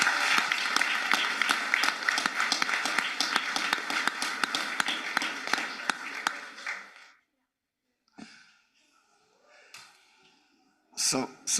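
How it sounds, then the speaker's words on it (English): A room at a city council meeting fills with applause for the Little League state champions, with brisk clapping for about seven seconds before it cuts off into silence, followed by a few faint sounds and a short voice. "a big round of applause for the Little League state champs"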